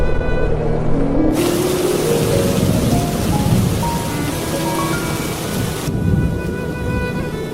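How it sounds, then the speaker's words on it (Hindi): Heavy rain pours steadily on a surface while thunder rumbles low underneath, loud and continuous, with a burst of fuller noise in the middle and no voices. "हे भगवान, बारिश होने लगी।"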